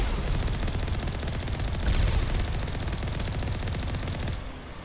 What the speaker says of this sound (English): there is something actively shooting me